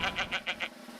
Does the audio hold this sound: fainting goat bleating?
yes